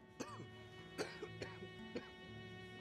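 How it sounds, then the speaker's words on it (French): A person coughs several times in short, separate bursts, with a throat-clearing quality, quiet and indoors against a faint humming background. "Quand une personne tousse"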